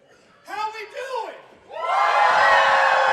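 At a Wrestlecade wrestling show, a voice calls out briefly, then the crowd erupts into loud, sustained cheering and whooping that fills the rest of the moment.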